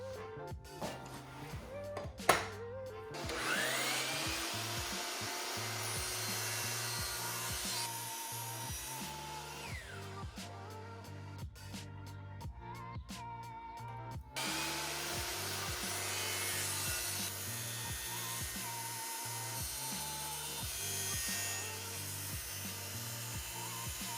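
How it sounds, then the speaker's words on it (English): A miter saw cuts wood pieces on an angle for the sides of a box lamp, giving a sustained loud whine broken by brief pauses and clattering handling sounds, close by with no talking. "now it's time to head back to our miter saw, and we can cut all these pieces on an angle"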